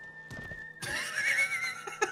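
Horses whinnying in the video game Red Dead Redemption 2: a brief neigh at the start, then a loud, sustained whinny that rises and falls, with a few thumps near the end.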